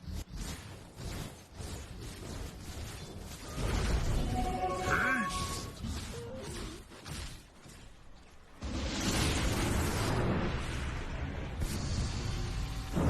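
A Dire top tower crumbling during a Dota 2 esports match: a rumbling crash and debris burst midway, followed by dense battle noise with explosions, all under a caster's excited commentary.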